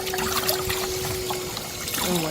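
Water trickles and pours close by while a car interior is readied for wiping, a short steady splashing stream with a faint tonal hum underneath.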